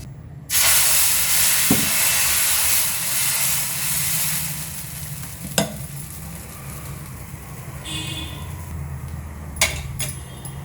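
Oil on a hot tawa being spread with coconut husk before making mixed dal dosa, a sudden loud hiss that settles into a steady sizzle, with a few sharp scrapes and taps over it.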